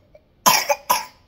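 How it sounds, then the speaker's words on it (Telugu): A person coughs, two or three close, sharp bursts in quick succession, loud and alone with no talking. "దగ్గుకో ఎంత కావాలంటే అంత."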